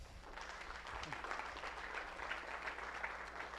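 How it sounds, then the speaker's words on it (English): Moderate applause from a workshop audience in a meeting room, a steady patter of many hands at middling distance lasting a few seconds. "round of applause for this group."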